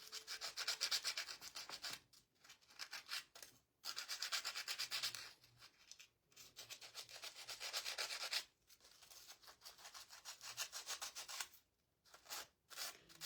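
A file rasps steadily against a paper napkin in long, close abrasive strokes, broken by brief pauses, with no talking.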